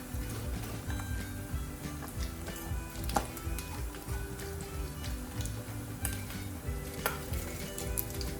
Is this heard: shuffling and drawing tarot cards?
no